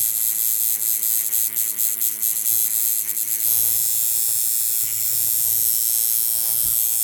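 Steady electric buzzing with a low hum from a tattoo machine being tried on an orange, continuous and fairly loud throughout, shifting slightly in tone partway through.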